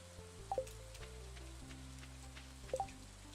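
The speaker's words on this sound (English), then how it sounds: "It's raining." Faint, steady rain patters in a video game, a soft hiss beneath gentle game music with a few brief tones.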